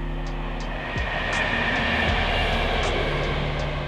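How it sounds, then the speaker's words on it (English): A train rolls past near an abandoned marina, a broad steady rumble with a low drone, fairly loud and close, and no voices. "or a train's coming by."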